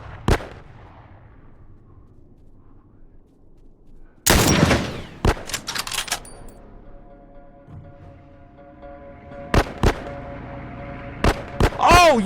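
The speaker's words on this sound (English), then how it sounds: "Who are they shooting at? Wait, I honestly don't know where they're shooting." Gunfire in The Last of Us cracks out as sharp, loud shots: one early, then a cluster of several, scattered single shots, and a quick final volley, separated by quieter gaps with low background sound.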